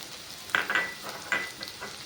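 Garlic goes into a pan of frying onion and green chilli, giving a soft sizzle with a few scraping stirs and light clinks of a spoon against the pan, fairly quiet and close.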